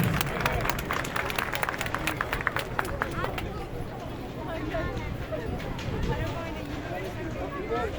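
A crowd applauds steadily at a large family reunion gathering in Turkey as a guest, a lawyer, is invited onto the stage; dense clapping runs throughout, loudest early on, with crowd murmur underneath.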